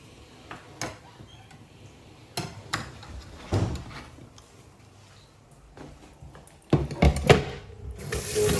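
Water runs from a kitchen tap while items are washed, intermittent splashing and knocking at first, then a louder, steady stream of running water in the final seconds.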